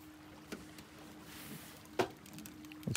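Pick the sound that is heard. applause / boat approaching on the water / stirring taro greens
boat approaching on the water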